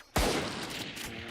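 A single sharp gunshot in the video game Valorant, played in a VCT EMEA Kickoff playoff match: a loud, close crack that rings out and decays over the following second.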